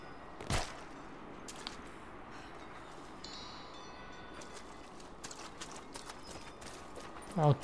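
Horse hooves gallop in the video game Rise of the Tomb Raider as a faint, continuous rumble under a steady game soundscape, with a few sharper hits standing out.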